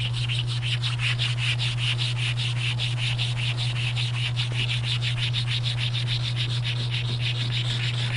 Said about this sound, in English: the clean stone will just rub that calcium right off the stone